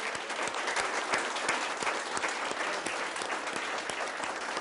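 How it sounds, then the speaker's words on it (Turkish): Audience applause fills a Turkish studio television show, steady dense clapping from a crowd that carries on throughout without any talking. "Alabilir miyim evet, güçlü bir alkış?"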